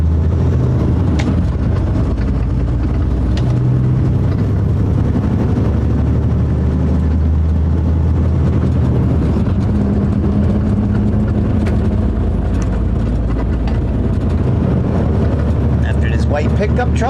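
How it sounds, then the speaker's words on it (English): A white pickup truck rolls past on a road in damp weather, its engine and tire noise swelling and fading under continuous nearby talk. "After this white pickup truck, there is nothing coming"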